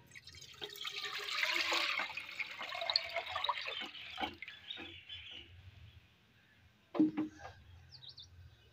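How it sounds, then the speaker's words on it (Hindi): A litre of milk is poured into a large pan for Kashmiri pink tea, making a steady close liquid splash that fades. A brief clatter of the pan follows. "पैन में हम 1 लीटर दूध डाल लेंगे।"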